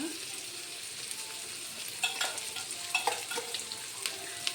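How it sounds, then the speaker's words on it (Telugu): Tomatoes fry in a pan for pulao, a soft steady sizzle with a few stirring scrapes in the second half. "పలావ్కి ఇప్పుడు టమాటాలు వేసుకుందాం దీంట్లోకి టమాటాలు వేసాను"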